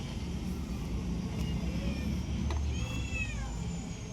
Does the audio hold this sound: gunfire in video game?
no